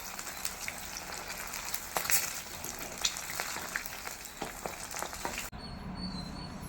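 Eggs frying in oil for an egg gravy, a steady crackling sizzle close by with occasional sharper pops and spatters, briefly cutting off near the end before a quieter hiss returns.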